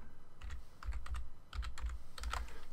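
Typing on a computer keyboard during a modded Minecraft session, short bursts of crisp clustered key clicks separated by brief pauses, close and clear.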